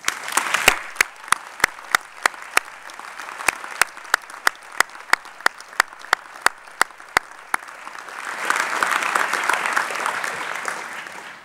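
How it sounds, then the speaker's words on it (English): At a University of Sussex graduation ceremony, sharp, evenly spaced single claps ring out alone in a steady rhythm, then a fuller wave of crowd applause swells up near the end and carries on. "Graduands and lecturers, a round of applause for families and friends."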